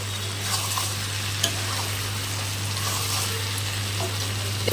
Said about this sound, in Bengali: এখন আঁচটা বাড়িয়ে দিয়ে আমি আর একটু ভাজা করে নেব এটাকে।